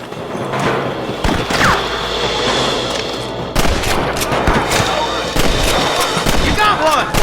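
Gunfire in the western video game Red Dead Redemption: rapid, dense volleys of shots and thuds from several guns, loud and close, with a voice speaking over the shooting at times.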